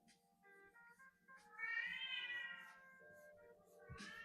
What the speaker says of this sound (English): to say that that is my cat.